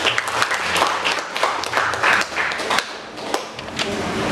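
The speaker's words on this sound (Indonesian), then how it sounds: "Jadi tepuk tangan untuk kita semua" Students applaud together in a classroom, a busy spread of close hand claps with sharp individual slaps, steady for a few seconds before a voice begins talking.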